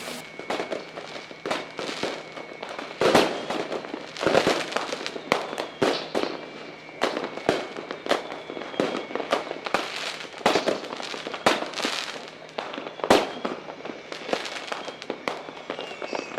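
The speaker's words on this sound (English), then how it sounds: "Right, fireworks at Clarence." Fireworks burst repeatedly in the Roblox flight game Aeronautica, sharp cracks and booms at irregular intervals over a steady engine-like drone, some loud and close, others fainter and farther off.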